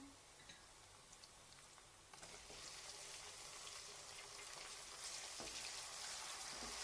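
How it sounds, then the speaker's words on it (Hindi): Browned onion and tomato fry in a pan with a soft sizzle that swells abruptly louder partway through, becoming a dense, steady crackle. "अब इसको अच्छी तरह से पहले फ्राई करना है ताकि ये मिक्स हो जाए अच्छी तरह से।"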